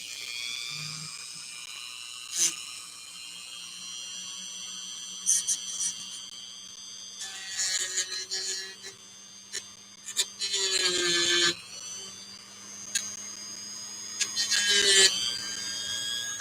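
A Dremel rotary tool cuts a switch out of a radio circuit, its high-pitched whine rising and falling in repeated bursts close up, with loud grinding stretches between quieter pauses and occasional brief talking.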